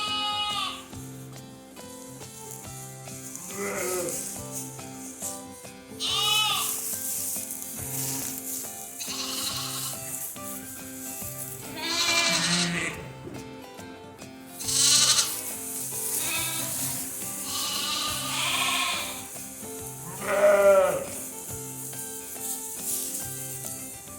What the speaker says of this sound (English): That noise lets the sheep recognise the lambs and the lambs recognise their mothers.